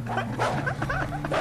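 A dog in a video game barks, yips and whimpers after being kicked, a rapid burst of loud, close yapping and growling calls over a steady background hum.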